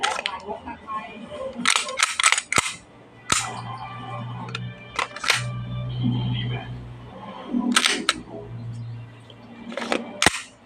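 A Double Bell Glock 17 airsoft gas pistol with a plastic lower receiver fires several sharp, loud cracking shots in small clusters, with someone talking in between and over the gaps.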